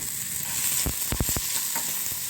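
Spices, dry red chillies and two or three tomatoes frying in a pan until golden, a continuous hiss with a quick cluster of sharp scraping strokes from stirring midway, no one talking.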